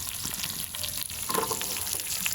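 Onions sizzle and fry in a pan with intestine for a village-style fry, a busy crackling hiss with bursts of stirring and scraping, fairly close, with no voices.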